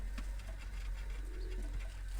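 Newly caught pigeons kept at a home, giving a few low, soft coos against a steady low hum and faint background noise, quiet and without talk.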